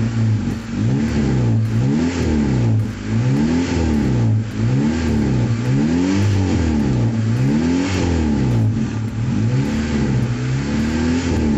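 A Daihatsu Taruna's engine, freshly through a top overhaul, runs and revs in repeated rising and falling swells, loud and close, with a steady mechanical drone underneath and no voices.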